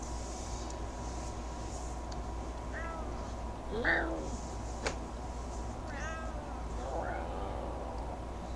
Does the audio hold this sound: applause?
no